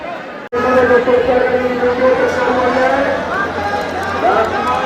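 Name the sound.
dense crowd chattering at a temple in Vrindavan during Holi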